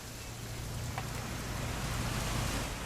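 Rain in the video game What Remains of Edith Finch, a dense, even wash of falling water with a low rumbling undertone, steady and fairly quiet throughout.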